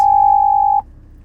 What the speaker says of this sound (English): got a phone call coming in.